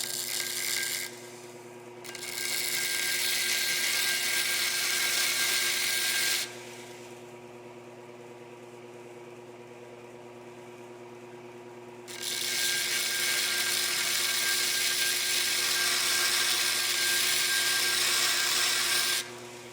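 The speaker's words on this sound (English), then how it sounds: "I hate grinding on knives that are already sharp" A Kershaw Emerson CQC-11K knife blade is ground wet on a grinder running at very slow speed. Two long, steady hissing grinding passes sit over a constant motor hum, with a quieter stretch between them.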